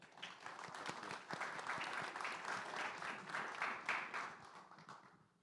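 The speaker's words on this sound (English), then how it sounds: "Big round of applause for Chef." An audience in Brownsville, Texas claps for a chef at a food event, a fairly faint, sustained round of applause from a crowd without talk over it.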